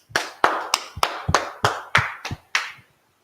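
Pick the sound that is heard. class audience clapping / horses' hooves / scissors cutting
class audience clapping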